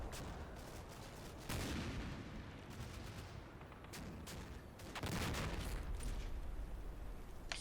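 Mortar fire in a war video game, several loud booming blasts with rumbling tails, spaced a few seconds apart over a constant background din, no voices.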